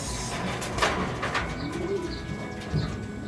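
Pigeons coo softly in low, rounded calls amid a busy outdoor background with scattered chirps and rustling.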